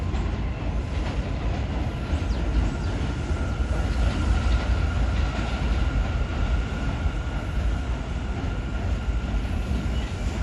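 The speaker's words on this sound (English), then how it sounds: "we got an F train and a Q train coming into Stillwell Avenue" F and Q subway trains pull into Stillwell Avenue station at Coney Island, a steady loud rumble of rolling rail cars with a faint high screech, filling the scene without pause.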